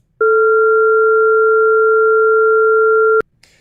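Two pure steady sine tones whose pitches stand in a ratio of pi sound together for about three seconds, starting and stopping abruptly, clean and loud against silence, followed by a faint click.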